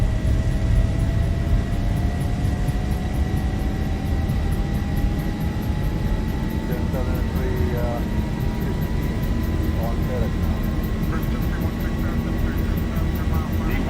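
Steady, loud roar of jet engines from a Zibo Boeing 737 during its takeoff roll in X-Plane 11, a constant drone with a rising whine, joined by faint clicks and tones from the flight deck.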